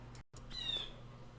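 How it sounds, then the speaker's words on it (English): Pet bird indoors giving a single sharp squawking chirp, close and fairly loud, over a low room hum. "birds ruining my clip"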